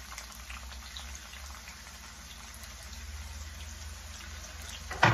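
Onions, spring onion and sweet pepper frying in hot oil for salt fish and okra, a steady quiet sizzle with a sudden clatter at the very end.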